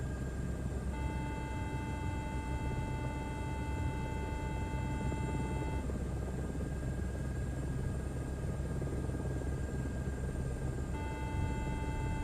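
Aircraft engine in a flight sim video game, a steady loud drone with a constant high whine and tonal layers that drop out midway and return near the end, with no voices.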